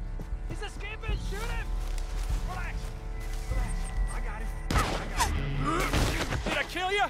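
Gunshots and chaotic action in Red Dead Redemption 2, mixed under a game score and a voice talking loudly over the scene.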